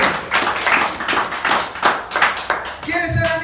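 A church congregation claps together in a steady, loud rhythm of hand claps that fills the room, ending with a few voices rising over the last second.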